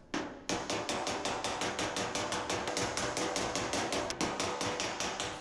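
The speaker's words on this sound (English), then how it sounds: "I'm going to switch to my pick hammer and work a little bit right in here." A small pick hammer taps sheet metal on a dolly in a steady, rapid rhythm, dozens of sharp ringing strikes close by with one brief pause.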